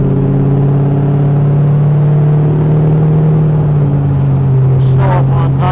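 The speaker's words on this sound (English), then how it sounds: "you can see and hear how nice this Ford Fairlane runs and drives" A 1967 Ford Fairlane engine runs steadily as the car drives along, a loud, close, even hum and rumble with a brief voice near the end.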